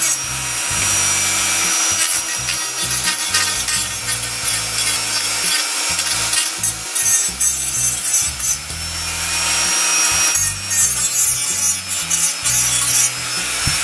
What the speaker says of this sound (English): This section here sits too high, and it was too wide, so I'm trimming it down and in on both sides.